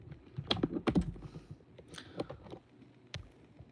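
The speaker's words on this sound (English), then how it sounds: "I'm trying to type stuff and it's broken" A broken computer keyboard is typed on in a quick burst of sharp, close key clicks, followed by a few scattered, fainter taps.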